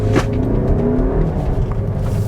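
A Seat Tarraco SUV in Sport mode accelerates on the road with a loud, continuous engine drone whose pitch climbs steadily, heard from inside the cabin.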